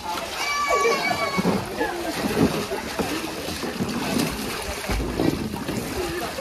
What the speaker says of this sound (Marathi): फायनली आमची ताई उतरली पाण्यात आणि माझ्या आणि पोहते